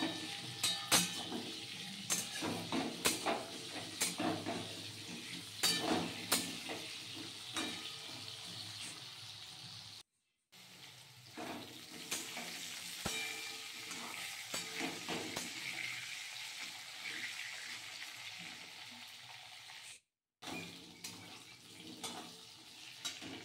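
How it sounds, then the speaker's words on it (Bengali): Potatoes fry in a pan with salt and turmeric, a steady close sizzle broken by clattering scrapes and knocks of a spoon stirring, with two brief dropouts. "আলুটা একটু নুন আর একটু হলুদ দিয়ে একটু নাড়াচাড়া করে একটু ভাজা ভাজা মতন করে দিয়ে দেবো"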